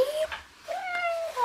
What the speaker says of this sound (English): I love her meow.